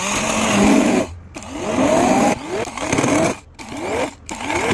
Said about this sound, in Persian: حالا با گوشتکوب برقی اینو قشنگ له لهش میکنم